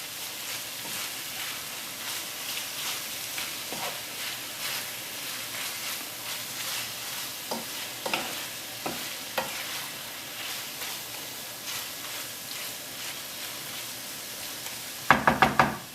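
Steady sizzling of a lamb curry frying in a pan while spices are stirred in, with repeated scraping strokes and a few soft knocks of the spoon against the pan, ending in several sharp taps on the rim.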